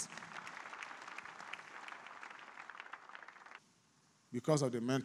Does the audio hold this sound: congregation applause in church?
yes